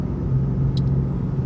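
A 2015 BMW M4 pulls under hard throttle, its engine a loud, steady low drone with a sustained tone and a brief higher whoosh midway.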